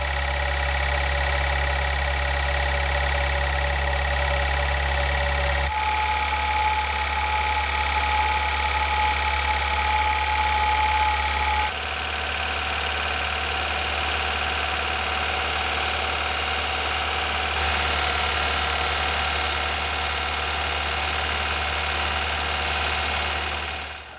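An engine with wrist pin knock is revved to about 2,000 RPM, holding a loud, steady mechanical drone that shifts pitch in several distinct steps, with a faint rhythmic knocking in the running note.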